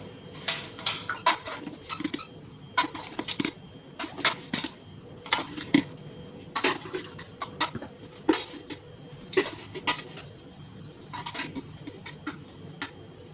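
Repeated scoops of protein powder tipped into a bowl while making a Special K banana crunch chocolate protein bar: a run of sharp, close scraping clicks and taps of a scoop against a container, steady and uneven, with no talk.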